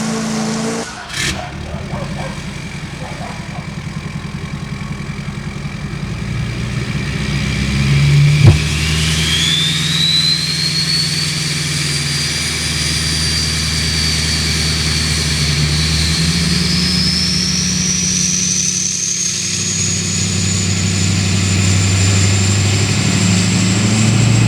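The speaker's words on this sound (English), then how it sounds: "do another pull. Gotta have another smile. I guess Dalton knows not to stand right by the exhaust this time and get blasted" A Chevrolet 3500HD Duramax diesel truck revs on a dyno during a pull: a loud, close engine climbs steadily in pitch over a long run after a brief idle, with a short clunk near the start.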